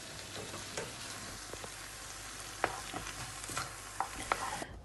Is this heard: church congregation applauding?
no